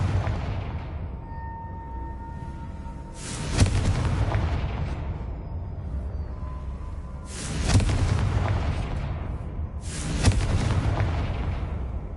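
Confringo fire spell blasts go off in Hogwarts Legacy, three booming bursts spaced a few seconds apart, each with a crackling tail that fades into quiet ambience.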